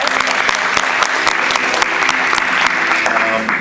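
Dense, steady audience applause at a community summit, many hands clapping close and loud throughout without letup.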